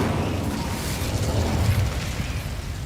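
The Incendio fire spell bursts in Hogwarts Legacy with a dense, roaring whoosh of flame and rumbling low booms, loud and continuous through the short moment.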